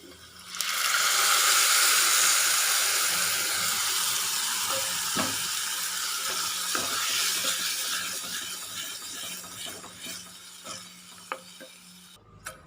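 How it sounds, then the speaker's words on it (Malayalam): Yogurt poured into a hot pan of sautéed shallots for Kerala moru curry sets off a sudden, loud hissing sizzle that gradually eases as a spoon stirs with soft clicks and scrapes. "തൈര് ഒഴിച്ചു കൊടുത്തതിന് ശേഷം നമുക്ക് നന്നായിട്ടൊന്ന് ഇളക്കി കൊടുക്കണം കേട്ടോ"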